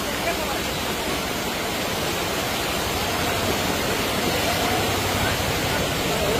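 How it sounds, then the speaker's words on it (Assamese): Floodwater pours into village houses in Sivasagar, Assam, as a dense, continuous rushing roar of water that stays loud and unbroken from start to finish. "এই পৰিস্থিতি কেনেকৈ মানুহৰ ঘৰলৈ পানী সোমাইছে"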